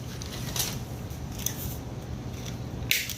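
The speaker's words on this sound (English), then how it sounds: "I'm going to cut about an 8-inch piece" Wire being snipped into short lengths from 200-pound test leader for a kingfish slide-weight rig: three crisp, close cuts spaced about a second apart over a steady low background hum.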